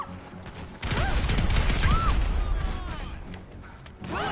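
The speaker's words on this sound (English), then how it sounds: "Oh, big explosion." A big explosion in GTA 5 Online, a loud crashing boom that swells abruptly and rolls on for a few seconds amid chaotic clattering and debris noise, with a second burst near the end.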